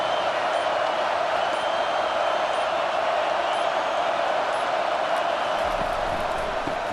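Steady, loud roar of a college football stadium crowd at Tulane vs. Oklahoma, a continuous broadband wash of noise with no distinct pauses, holding at even volume throughout.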